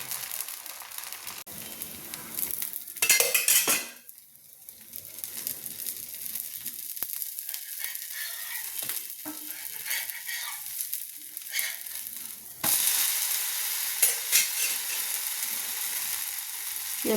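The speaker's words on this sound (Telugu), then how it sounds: "హీట్ ఎక్కిన తర్వాత దోశ పోసి చూపిస్తున్నా." Dosa batter hisses and sizzles on a hot pan, a steady close frying crackle that breaks briefly and then comes back louder as fresh batter hits the metal.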